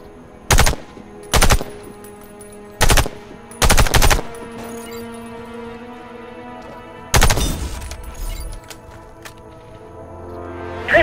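Gunfire from the online shooter Warface while aiming down a scope: five sharp, loud shots or short bursts in the first four seconds, then a longer rattling burst that fades into a quiet interval before another shot at the end.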